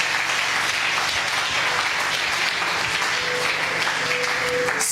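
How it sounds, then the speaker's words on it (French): A church congregation bursts into loud, sustained applause with cheering that fills the room steadily throughout, close and dense with no pauses. "Si tu le crois, acclame très fort."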